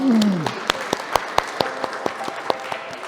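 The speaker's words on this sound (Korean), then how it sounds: "영광의 박수 올리겠습니다" A church congregation at Sunday worship applauds, a few scattered, sparse hand claps in an uneven rhythm after a brief voice at the start.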